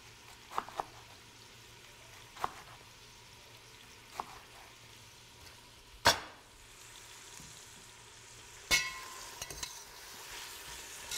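Apples and onions cook down in a pan with a faint, steady sizzle, broken by sparse spoon taps and a couple of sharper scrapes.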